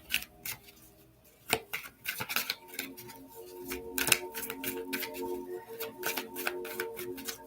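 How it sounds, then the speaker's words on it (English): Tarot cards being shuffled by hand, with rapid riffling bursts and scattered crisp snaps of varying loudness, close and fairly quiet, without any talking. "Sorry for all the shuffling, guys."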